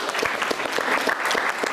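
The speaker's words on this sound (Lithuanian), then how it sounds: "Mantas Patrakis, plojimai jam" Studio audience applause on a Lithuanian game show, a short burst of dense, close clapping with no pauses.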